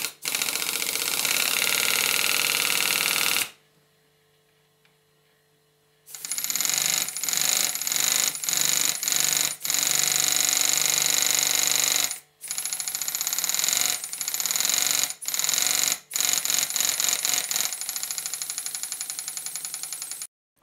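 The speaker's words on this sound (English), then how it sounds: "this pump has a lot more power when I connect the steam line to the inlet rather than the exhaust." A Stuart steam pump runs on compressed air with the air line on its inlet, making a loud, fast, rhythmic mechanical clatter. It stops for about two and a half seconds, then restarts, with a few brief breaks later on.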